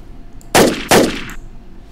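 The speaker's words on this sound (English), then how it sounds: "And let's see the AK for a minute" Two loud, close AK rifle shots from the video game Crossroads Warfare fire in quick succession, each with a brief ringing tail, with no talking over them.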